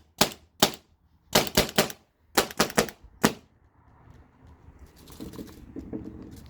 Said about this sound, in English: just dry firing this, getting the air out.